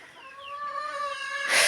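Chickens and chicks in a backyard coop give close, clear, rising calls that run on steadily for a moment before a burst of rustling noise at the end.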